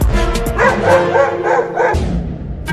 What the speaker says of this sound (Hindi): तो देखो ये कुत्ता भूखी नजरों से देख रहा है आइसक्रीम को।